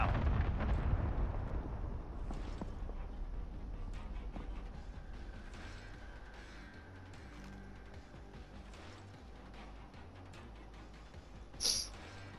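Cluster bombs go off in a video game: a dense, loud rumbling burst of blasts at the start that trails into a long, fading crackle, with one sharp pop near the end.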